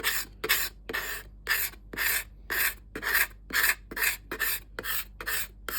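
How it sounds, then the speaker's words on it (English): A steel scraper drawn in steady, rhythmic strokes along a wooden tomahawk handle to remove sandpaper marks, about a dozen evenly spaced raspy pulls, close and crisp with no talking. "just use my scraper just to take those sandpaper marks out"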